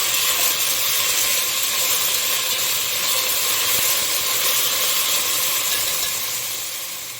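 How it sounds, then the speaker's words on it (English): Mushrooms and garlic sauté in a hot pan with a loud, steady hiss and sizzle that holds evenly throughout, close up, with no voices. "I have some mushroom and garlic, but I'm gonna I'm gonna wait to kind of let these saute down a little bit"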